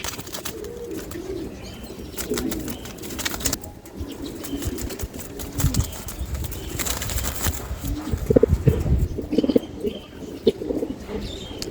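Giribaz racing pigeons in Bangladesh flutter their wings and give soft, low coos nearby, with rustling flaps throughout and a faint voice in the background.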